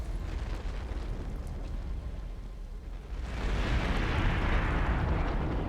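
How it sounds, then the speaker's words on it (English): In the video game Elden Ring, an enemy bursts into a small area-of-effect explosion: a dusty rumbling whoosh that swells and holds loud for the last few seconds. "it'll blow out a little AoE explosion"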